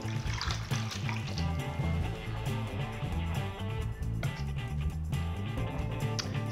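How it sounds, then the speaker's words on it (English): Half a liter of shiitake mushroom broth is poured into a pot for spicy pork ribs, giving a continuous liquid splash and trickle with some clinking over a low background hum. "I'm gonna add 1/2 liter of shiitake mushroom broth."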